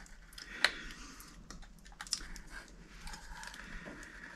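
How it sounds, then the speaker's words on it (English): An X-Acto knife traces around the edge of a Lexan polycarbonate sheet to trim its protective coating, making faint close scratchy clicks and ticks with a couple of sharper snaps, and no talk. "I'm just going to go around the edge here with the X-Acto"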